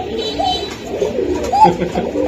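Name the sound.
pigeon cooing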